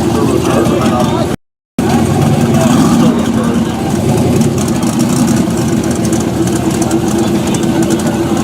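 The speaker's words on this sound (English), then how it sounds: "Sounds like turbocharger." Turbocharged drag car at KD Dragway running at steady loud volume, a continuous broadband engine roar with crowd and announcer noise, broken by a brief dropout.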